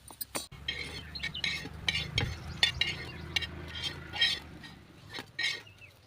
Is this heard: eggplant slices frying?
yes